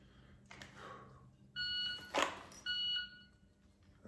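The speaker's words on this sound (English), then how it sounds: "I've got my phone is going off in the background" A phone alert sounds in the background at a dry-fire concealed-carry practice, with a few sustained electronic beeping tones in separate bursts and a sharp click or snap between them.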